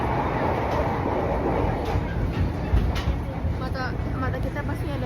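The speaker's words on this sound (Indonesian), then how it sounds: "Guys, ada kereta dalam keadaan macet." A train passing in a busy outdoor setting during an evening trip to Blok M, Jakarta, a steady rumbling roar with rattling carried throughout, while people talk over it.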